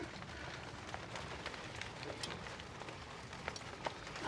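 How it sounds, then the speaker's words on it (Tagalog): Rain patters steadily on a surface outside, a soft continuous hiss with scattered louder drips, fairly faint and without voices. "Habang sa labas ay umuulan."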